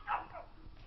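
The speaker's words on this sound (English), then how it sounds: "What are you barking at?" A dog gives one short, sharp bark, followed by a softer yip, close by against a quiet room.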